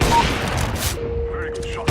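Gunfire in the game CS:GO during a deathmatch round, a loud burst of shots at the start and another sharp shot at the end, with a steady tone and game noise between them.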